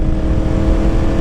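Yamaha MT-10 motorcycle accelerating hard with a quick-shifter gear change, a loud, steady, close engine roar running unbroken through the moment, with no talking.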